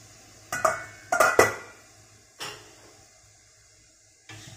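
Steamed pork legs get mixed into dried pigeon peas in a cooking pot for a Filipino kadyos baboy papaya dish, making a few clattering knocks and scrapes in quick bursts, then one more bump and a final faint knock, with no talking.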